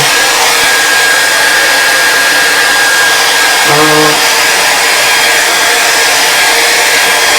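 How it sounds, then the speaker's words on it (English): A hair dryer blows steadily and loudly over painted trees on a canvas, a continuous airy roar that holds through the whole stretch with no pauses. "we're gonna dry these trees"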